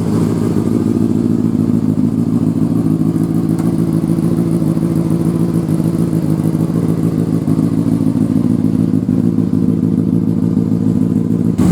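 A rebuilt Honda CBR600RR motorcycle engine idles steadily and smoothly up close, a constant loud mechanical drone with a light clattering edge and no speech throughout.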